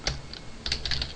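Keystrokes on a computer keyboard while Java code is entered, a short burst of quick, close clicks in two small clusters with a brief pause between.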